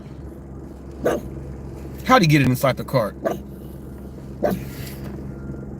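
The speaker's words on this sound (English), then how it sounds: "She knows she's not supposed to bark out loud, so that's a quiet bark." A soft, muffled dog bark or huff sounds a few times, short and subdued, while a person talks nearby.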